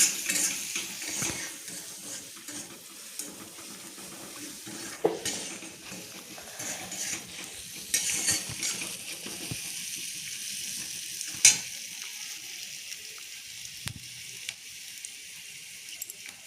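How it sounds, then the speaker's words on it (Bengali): Salted onions with turmeric fry in a pan, a soft continuous sizzle under frequent clinks and scrapes of a metal utensil against the pan, with sharp clanks scattered through the passage. "পেঁয়াজগুলো ভাজা হয়ে গেল"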